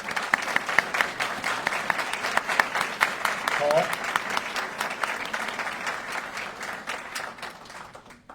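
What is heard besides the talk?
audience applause for veterans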